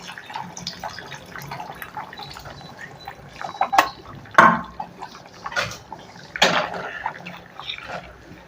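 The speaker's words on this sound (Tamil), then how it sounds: "இப்போ புளி தண்ணி ஊற்றிடலாம்" Tamarind water pours and splashes into a pot of curry in uneven gushes, close by, with small drips and clinks between the louder pours.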